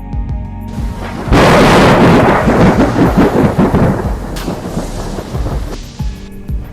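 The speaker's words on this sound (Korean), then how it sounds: "저 천둥 소리가 들리느냐? 쾅 하고 울리는 저 소리 말이다." A loud, deep thunder rumble rolls in, swells and slowly fades, with a steady wash of rain behind it.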